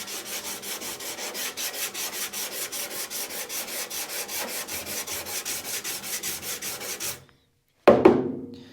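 Body filler on a Chevy C10 Stepside is hand sanded with 80-grit sandpaper in a steady, rhythmic back-and-forth scrape of about two strokes per second. The strokes stop abruptly near the end, and one loud rustle follows after a brief silence.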